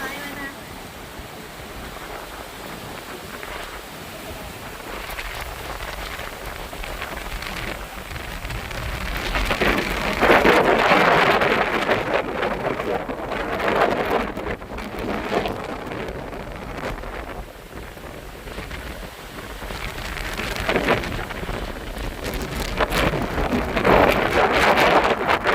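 Rain and wind from tropical storm Wipha at Pha Hum Hod in Chaiyaphum, Thailand: a dense, steady patter of rain on surfaces with gusts buffeting the microphone, swelling louder in waves, and faint voices under the downpour.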